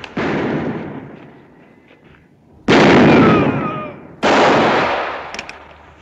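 Rifle shots ring out during a street gunfight in a western movie. Three loud, close blasts come one after another, each followed by a long, echoing decay.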